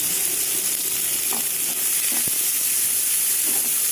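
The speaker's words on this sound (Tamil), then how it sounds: "ஆனியன் போடுறேங்க ஆனியன் வந்து சின்ன ஆனியன் தான் ரெண்டே ரெண்டு ஆனியன் போடுறேன்" Two small onions dropped into hot oil set off a loud, steady sizzle with a constant hiss and a few brief crackles, heard alone without any talking.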